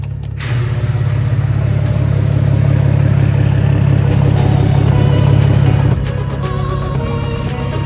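A 2010 BMW 335i M Sport with the N54 engine idles in a garage: a steady, loud, low rumble with a faint mechanical clatter. It holds even for about six seconds, then dips slightly.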